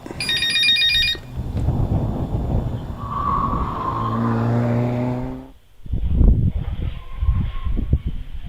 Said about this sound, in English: Hang on, I'll just take a phone call.